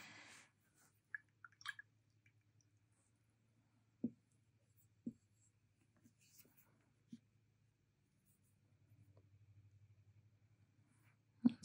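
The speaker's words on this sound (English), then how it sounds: "Just writing silver kakimori." Faint scratching of a silver Kakimori dip pen nib on paper, a few brief strokes and taps spread across a quiet room, with a soft low hum underneath.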